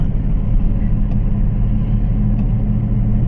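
A car starting the climb up the Thamarassery ghat road to Wayanad, its engine a steady low rumble from inside the cabin with no clear revving and no voices.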